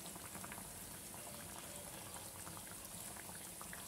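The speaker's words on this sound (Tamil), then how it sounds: "ஒரு 5 நிமிஷம் மீடியம் ஃப்ளேம்லயே வெச்சு நான் இந்த மாதிரி கொதிக்க வெச்சிருந்தேன்" A pot of gravy with dumplings boils on a medium flame, giving a continuous dense bubbling and gurgling close up that stays steady throughout with no talking.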